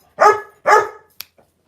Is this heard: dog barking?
yes